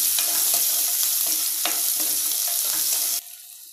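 Chopped shallots dropped into hot oil with garlic in a pan for Chettinad vathal puli kulambu give a loud, dense frying sizzle with spoon scrapes, then the sound cuts off abruptly near the end.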